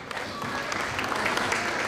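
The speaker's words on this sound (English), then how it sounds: "Please give them a round of applause, our secondary sponsors" Wedding guests clap for the secondary sponsors, a soft, steady patter of applause from a gathered crowd with a few sharper claps standing out, continuing throughout.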